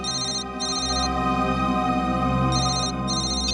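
A mobile phone rings with a bright, repeating electronic ringtone in short pulsed bursts over a steady tonal backing, loud and close, with no voices.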